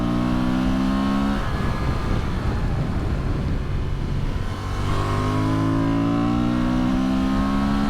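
A Honda Transalp 750 motorcycle exhaust rumbles at idle, swells into a loud rev, then drops back to a steady idle; no one speaks.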